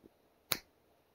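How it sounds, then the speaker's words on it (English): A single crisp finger snap, close and sharp, standing alone in a quiet room with a faint click just before it. "I will snap my fingers"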